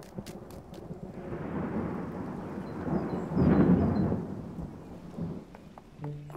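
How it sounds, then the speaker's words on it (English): Summer thunderstorm with a long, deep thunder roll swelling over steady rain and peaking midway before fading, fairly loud and with no voices. "It's only a summer thunderstorm."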